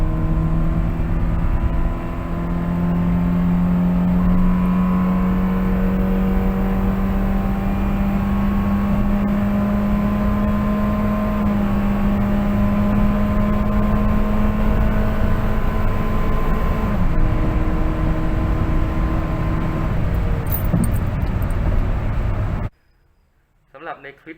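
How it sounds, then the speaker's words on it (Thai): The engine of a stock Honda Jazz GE with a ram-air intake, carrying two people, drones loudly at full throttle and climbs steadily in pitch through several gear changes in D, then cuts off abruptly near the end. "แล้วก็ออกที่เกียร์ดีธรรมดา แล้วก็เหยียบเต็มธรรมดาด้วย"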